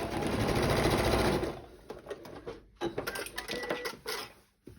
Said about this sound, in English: And we sew across.